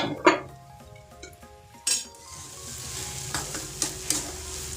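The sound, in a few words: vegetable spring roll stuffing steaming in covered pan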